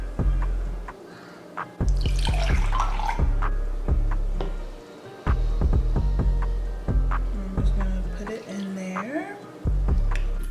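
Water poured into a mixing bowl while making Kenyan mandazi dough, with splashing and dripping in short bursts alongside clinks of a cup and bowl in a home kitchen.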